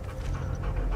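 A puppy in Hell Is Us gives brief, soft whimpering and panting sounds over a low rumbling background, close and quiet.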